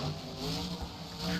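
Monster truck engine at a monster truck championship event in Daytona, Florida, revving hard as the truck launches, heard fairly faint and distant through crowd-filled ambience.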